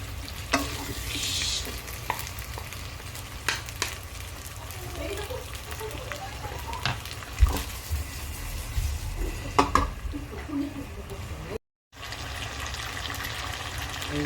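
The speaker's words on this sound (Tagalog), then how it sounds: "halo-haloin natin" Pork kaldereta stirred in a frying pan, a steady sizzle of frying meat with scraping spoon strokes and light clinks throughout, close and moderately loud.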